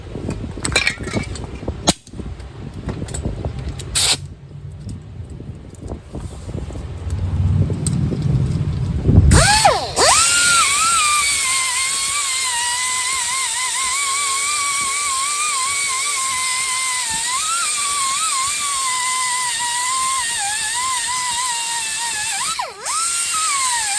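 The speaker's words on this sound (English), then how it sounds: "we'll take our Whizzy disc and clean the rest of this off" A Whizzy disc and carbide cutter grinding corrosion off a car's sway bar link, starting with rough intermittent scraping bursts, then a loud sustained high-pitched whine that wavers in pitch for over ten seconds, close up.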